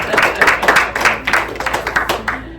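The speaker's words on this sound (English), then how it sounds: "Can we have a round of applause for our amazing panel?" An audience claps for a panel at the close of a conference session, a brisk round of applause with distinct claps, moderately loud, tapering off over a few seconds.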